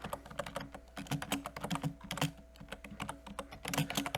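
Rapid, uneven keystrokes clatter on a computer keyboard as a file name is typed, close and fairly quiet, with brief pauses between bursts of keys.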